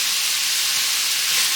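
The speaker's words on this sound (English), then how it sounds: "here's the pork, and we're just going to go ahead and lay it in there. And we're going to let that cook and get a little toasty" Pork laid in a hot pan for yakisoba, searing with a continuous bright hiss and sizzle, loud and close, holding steady throughout.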